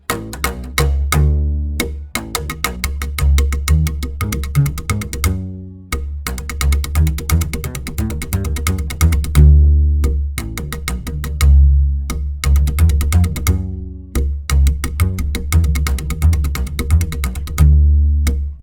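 A mixed tololoche, a Mexican upright bass, plays a busy plucked line with warm, full low end and controlled dynamics, steady rhythmic notes for the whole stretch with a brief pause near the middle, up front and without voices.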